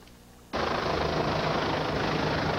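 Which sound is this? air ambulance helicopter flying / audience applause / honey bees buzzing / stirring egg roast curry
air ambulance helicopter flying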